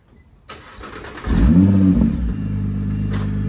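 A GTR sports car engine with fully stock setup cranks and catches, surging into a loud rev before settling into a deep, rumbling idle nearby.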